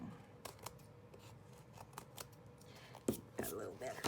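Scissors cut through a handmade journal cover in a string of close, crisp snips and crunches that grow louder near the end, with soft speech and breathy whispering mixed in.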